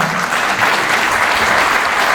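Steady crowd applause at a political solidarity meeting, dense and close, continuous throughout the short stretch.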